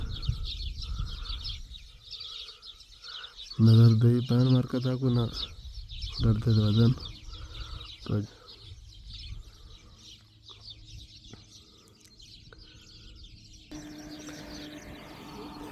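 Many sparrows chatter continuously in a tree beside a wheat field in Saudi Arabia, a faint busy twittering beneath someone talking nearby.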